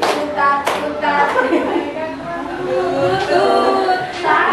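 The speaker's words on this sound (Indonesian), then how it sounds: "Tangan diputar-putar, bertepuk tangan." A group claps hands in a rhythmic action song, with sharp claps mixed among singing and children's voices.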